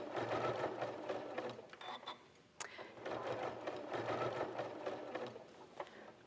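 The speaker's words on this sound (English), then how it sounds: "it's really easy to get the same effect and do the same thing just with standard stitching" A sewing machine runs steady standard stitching on a quilt, its rapid mechanical whir continuing for several seconds with a brief pause midway, close and fairly loud.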